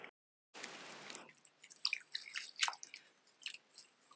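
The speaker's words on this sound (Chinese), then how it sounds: "先把香菜的根部给它清洗干净，因为香菜的根部呢是最脏的，一定要多清洗几遍" Coriander roots being washed by hand in a basin of water, with soft wet squishing and dripping, a short splash burst, then scattered small drips and rubbing sounds, close and fairly quiet.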